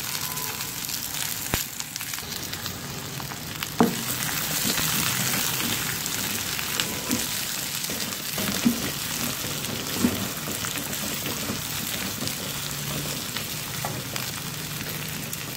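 Chopped onions frying in a pan for turai bhujiya, giving a steady close hiss and crackle with scattered small pops, running continuously without talk.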